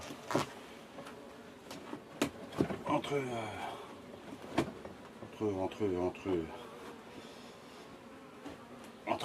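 Honey bees buzzing around an opened hive heavy with honey, a close, uneven drone with passing individual bees, under someone talking in French with occasional knocks.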